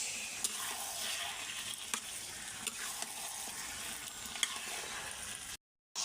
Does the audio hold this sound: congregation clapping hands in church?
no